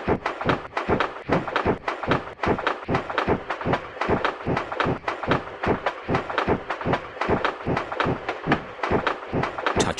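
Train running in the Peppa Pig Train Ride video game, a steady, rapid rhythmic chugging clatter of evenly spaced beats continuing for the whole stretch at a consistent, fairly loud level with no talk over it.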